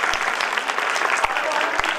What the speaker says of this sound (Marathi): प्रेक्षकांनी सर्वांनी टाळ्या वाजून या सर्व खेळाडूंचं